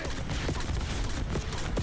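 Rapid, dense gunfire from a War Machine weapon in a video game, with bursts of explosive bangs packed closely together over a busy, noisy game mix.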